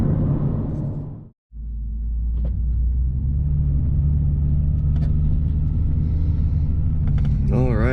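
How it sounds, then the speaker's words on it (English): A Nissan 370Z NISMO cruising on the road, heard as a steady low engine and road rumble from inside the car, with one brief dropout early on, then even, continuous driving noise. "So I'm just gonna keep driving now."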